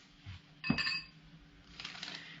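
A dessert glass clinks once as it is picked up during mousse preparation, a single short ring against faint kitchen background, no talk.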